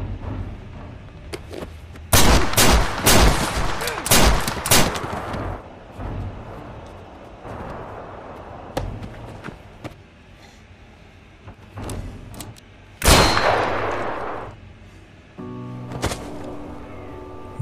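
Gunfire in a film scene, loud bursts of shots clustered in rapid volleys with quieter gaps between, a later burst trailing into a rumbling roar.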